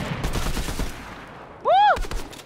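Gunfire from a weapon in the video game Fortnite: a few sharp shots ring out near the end, following a stretch of quieter game sounds.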